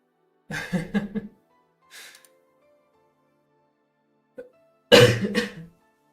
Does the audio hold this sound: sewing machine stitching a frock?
no